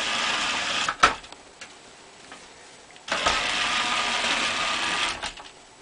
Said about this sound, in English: there it is, the Roomba running with infrared remote